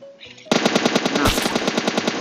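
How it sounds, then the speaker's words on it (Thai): Rapid automatic gunfire in the mobile battle-royale game PUBG Mobile on the Sanhok map: after a short quiet lead-in, a loud, steady burst of evenly spaced shots runs to the end, with one heavier impact partway through. "แอบยิงดักเลยนะครับ"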